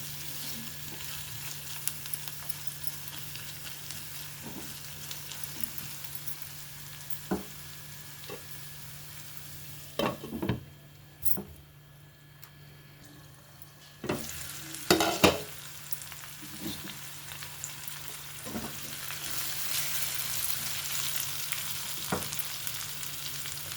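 Curry ingredients fry in a pan for a tomato and broad bean seed curry, giving a low continuous sizzle with occasional scraping stirs and clinks of a spoon against the pan, with no speech.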